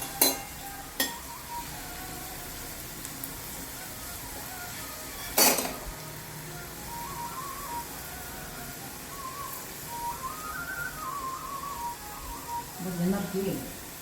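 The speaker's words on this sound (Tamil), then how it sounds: "நல்லா ஃப்ரை ஆகட்டும்." South Indian vendakkai fry: okra frying in a pan with a soft sizzle, a few sharp utensil clinks, and stirring scrapes against the pan, while a faint voice murmurs in the background.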